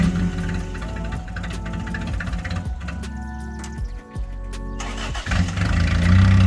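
Rusty old Toyota Tercel 4WD wagon engine cranking and catching, then idling with a steady hum and some uneven revving, close and moderately loud with no talk.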